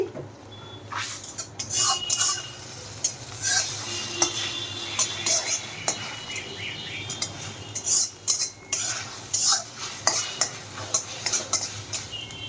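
Metal utensils clatter and scrape against a wok of frying egg on high flame in repeated bursts over a steady low hum, with only a faint sizzle underneath.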